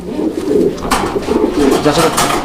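Fancy pigeons coo close and loud, overlapping throaty rolling calls filling the whole stretch, with a voice faintly in the background.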